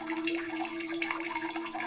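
A bathroom sink faucet left slightly open lets water run fairly hard, a faint continuous trickle and patter with a steady low hum beneath, heard at a distance without talk.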